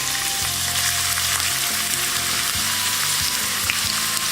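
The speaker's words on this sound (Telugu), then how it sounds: "ఆయిల్ వేడయ్యాక మనం కట్ చేసి పెట్టుకున్న ఉల్లిపాయలని వేసుకోవాలి." Chopped onions hit hot oil in a pan and fry with a loud, steady sizzle and crackle that continues throughout, with no talking.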